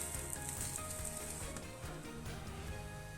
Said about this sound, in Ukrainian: Жаримо ми млинець лише з одної сторони